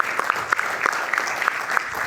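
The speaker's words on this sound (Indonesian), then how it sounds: "kita berikan tepuk tangan." A television studio audience gives a short burst of steady applause, with some whoops or shouts rising above the dense clapping.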